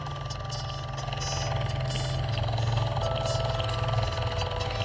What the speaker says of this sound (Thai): นี่ฮะเฮลิคอปเตอร์